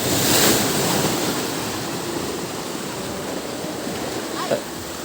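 Strong sea waves surge and wash in a broad roar on a windless day, opening with a louder swell and then rushing steadily, with no voices.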